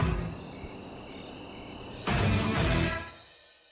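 Steady, shrill cricket chirping plays as a comic silence effect, louder and busier for about a second near the middle before fading into quiet at the end.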